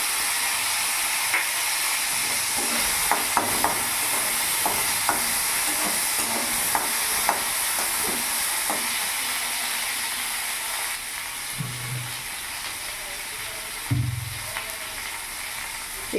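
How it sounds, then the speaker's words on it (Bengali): A tomato fries in hot oil with a spice tempering of bay leaf, dried chili and five-spice, giving a steady loud sizzle with stirring clicks and scrapes throughout and a few soft low thumps near the end. "ফোড়নটা ভাজা হয়ে গেছে, এর মধ্যে আমি একটা টমেটো দিলাম।"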